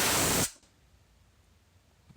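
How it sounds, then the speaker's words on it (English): A short, loud spray hisses onto a thermostat housing to clear pooled coolant from a supercharged engine, cutting off abruptly after half a second into quiet background. "I go ahead and spray down there to get rid of the coolant that's sitting there."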